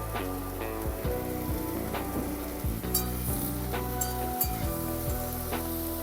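Hot oil sizzles and crackles steadily in a pan while cooking a dried shrimp and cauliflower curry, a continuous close frying hiss with scattered sharper pops and light clinks throughout.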